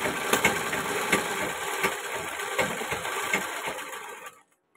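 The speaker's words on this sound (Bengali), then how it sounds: "আমার মনে হচ্ছে সুইটা বড় হয়ে গেছে, যার জন্য খটাস খটাস করে আওয়াজ হচ্ছে।" Sewing machine with an oversized needle, stitching the folded edge of a ghagra skirt, clacking loudly in a fast steady rhythm close by, then stopping abruptly near the end.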